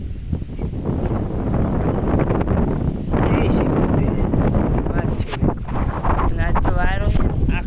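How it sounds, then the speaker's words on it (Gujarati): Strong wind gusting outdoors near farm fields, a loud steady roar of wind buffeting the microphone throughout, with someone talking over it. "વાયરો છે ખતરનાક"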